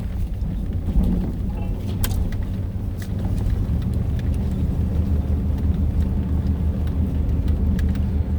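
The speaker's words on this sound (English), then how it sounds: "The other thing I hate about this truck, it's not a quiet truck." A pickup truck's loud engine drones and rumbles steadily from the cab while driving on a mountain road during a hunting trip, with a few faint clicks and rattles over the continuous low roar.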